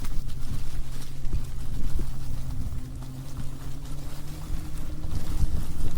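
Steady low electric motor whine and rumble from an Onyx RCR 80-volt electric moped being ridden around a yard, with wind buffeting the microphone and slight surges as it turns.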